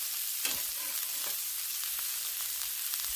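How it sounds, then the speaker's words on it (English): Onions grilling on a Blackstone flat-top griddle indoors, a steady broadband sizzle with a few faint scraping stirs, continuous and fairly quiet with no voices. "we may be grilling onions inside"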